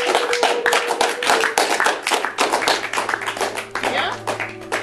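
An audience claps loudly and steadily, many hands together in a dense, close wash of applause with no pauses, while a low tone hums underneath.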